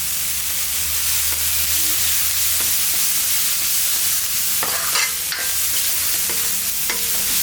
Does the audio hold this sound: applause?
no